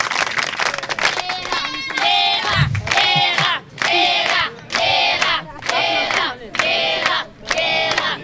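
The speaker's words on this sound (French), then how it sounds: "On applaudit très fort pour les deux équipes." A school audience at a public school in Dougoï, Maroua, cheers and claps for two teams in loud, close bursts that rise and break off rhythmically, about once a second, like chanted cheering.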